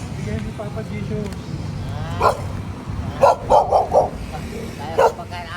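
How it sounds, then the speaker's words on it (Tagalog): Several dogs bark and yip in short bursts, a lone bark followed by a quick run of four and another single bark, close by, with quiet surroundings between. "Madami mong aso, kuya."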